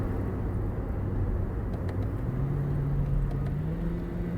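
A 2018 Toyota Yaris TRD with a CVT downshifts two gears for engine braking at high revs, the engine hum rising in pitch under steady road rumble, heard from inside without talk.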